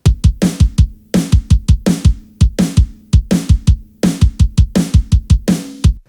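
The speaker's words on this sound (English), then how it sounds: "So kick and snare together." Kick and snare drums from a mix of a song hammer out a tight, loud groove of punchy low thumps and sharp cracks, with brief pauses between phrases and no voices.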